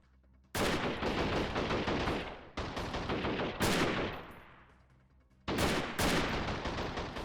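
Gunfire from the video game Freeman: Guerrilla Warfare: loud, dense bursts of automatic fire in several long volleys separated by brief gaps, with one volley fading into a decaying echo.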